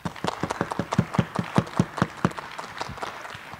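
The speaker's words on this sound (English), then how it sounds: "please clap for everybody" Audience at a partnerships panel discussion claps for the panel speakers, with sharp, distinct handclaps from a modest crowd in an irregular, moderately loud patter that thins toward the end.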